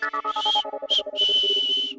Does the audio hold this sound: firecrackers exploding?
no